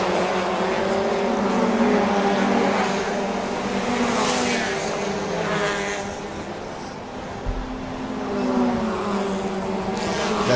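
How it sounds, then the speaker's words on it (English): Suzuki and Honda eco cars race in a Super Eco class street race at the Bangsaen Grand Prix in Thailand, with engines droning and rising and falling as they pass, under steady crowd and ambient noise. "Got Suzuki's and Hondas right here. Running around for Super Eco."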